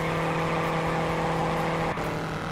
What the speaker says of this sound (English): You can hear the tires just screaming at me.